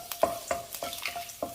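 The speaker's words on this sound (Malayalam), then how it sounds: "നമ്മൾ ചെറുതായിട്ട് അരിഞ്ഞ് വെച്ചിരിക്കുന്ന വെളുത്തുള്ളി ചേർക്കാം" Finely chopped garlic sizzling in hot ghee with a bay leaf, stirred with a spoon scraping the pan in a steady rhythm of short, close scrapes over a soft frying hiss.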